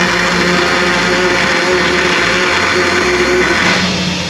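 A blender runs continuously at full power, puréeing a cooked rustic garlic soup, a loud, steady whirring drone with slight shifts in pitch as the contents churn.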